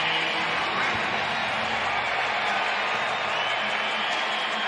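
A baseball stadium crowd at an Angels vs Yankees game, a steady broad roar of many voices and murmur holding at an even level without distinct peaks.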